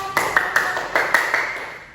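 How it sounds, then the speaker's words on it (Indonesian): A short, quick run of classroom hand claps, about seven sharp slaps in an uneven rhythm, fairly close and bright, fading at the end. "Oke, beri tepuk tangan."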